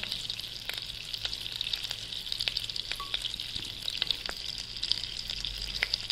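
Whole cumin seeds, cinnamon, clove and cardamom sizzle in hot oil for a malai kofta base, a constant bright hiss with scattered small pops and crackles, close and steady.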